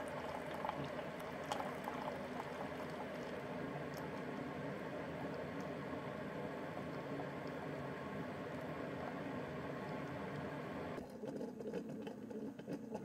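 Steady gurgling and hissing of a coffee maker brewing a 12-ounce cycle of cleaning solution, a continuous bubbling flow that thins out near the end.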